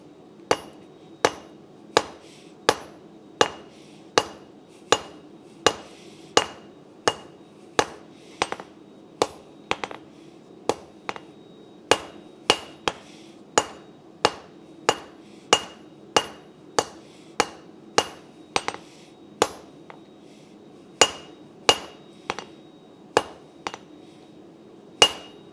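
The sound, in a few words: hammering metal while forging, tapering the piece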